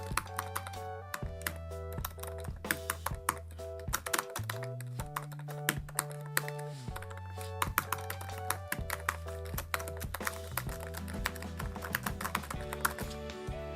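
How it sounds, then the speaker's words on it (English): Steady clicking of computer keys typed in quick irregular bursts, close and crisp, with no talking. "I'm gonna type, something in, and it's got that really nice keyboard sound"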